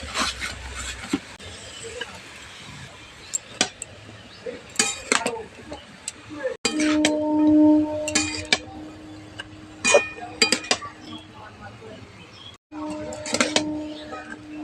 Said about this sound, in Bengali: সব একসঙ্গে মশলার সঙ্গে বাঁধাকপিটা ভালো করে মিশিয়ে নিয়েছি